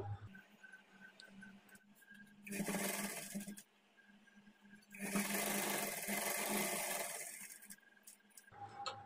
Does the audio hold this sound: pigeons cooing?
no